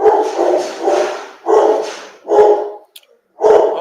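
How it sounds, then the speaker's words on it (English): A dog barks loudly and close by in a rapid series of sharp barks, grouped in about four bursts with brief pauses between them, and no talking. "Hold on, let me check on that dog."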